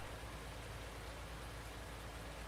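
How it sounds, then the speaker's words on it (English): Steady rain from Farming Simulator 19, a dense unbroken hiss of falling drops on surfaces, even and constant throughout with no voices over it. "There's probably a mod that turns off the freaking rain too"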